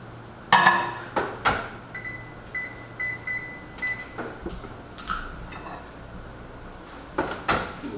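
A kitchen microwave heating oats with cashew milk gives short electronic beeps and the clunks and clicks of its door and buttons, spread as a few sharp, close bursts over a quiet background with no talk.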